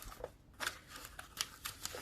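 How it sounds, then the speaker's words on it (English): Small zippers on cash budgeting envelopes are tugged and fiddled with, giving faint, close, irregular short rasps and clicks in quick bursts, with no talk. "I can't get my zippers to work today."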